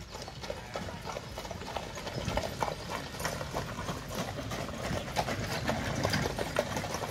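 Horse-drawn carriages arriving at a horse festival in Solt, Hungary, their hooves clip-clopping steadily and close by, with rattling wheels and harness under a continuous outdoor rumble growing slightly louder.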